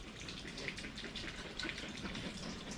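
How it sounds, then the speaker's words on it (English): Tap water runs steadily and faintly during hand washing, a soft continuous splashing gush with no voices. "and wash my hands."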